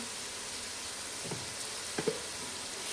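Ginger garlic paste fries in hot oil for a two-kilogram chicken curry, giving a steady close sizzle throughout with a few soft stirring knocks and no speech.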